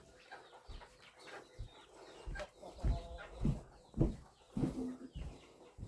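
Chickens cluck faintly in short, irregular low bursts, with a few louder calls repeating every second or so against quiet outdoor background.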